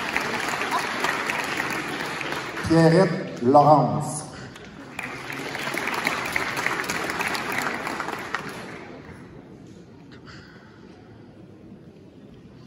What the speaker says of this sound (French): On peut applaudir, ben oui.